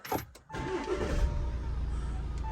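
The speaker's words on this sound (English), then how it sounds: "I'll start my car up. This is keyless, so you've got a start button." An Audi A6 C7 is started with its keyless start button: a brief electronic chime and starter click, then the engine catches and settles into a steady low idle that hums on to the end.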